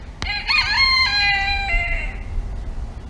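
A rooster crows once, close and loud, beside a farm-style burn barrel, giving a single drawn-out cock-a-doodle-doo that rises and then tapers off over a low background hum, with no speech.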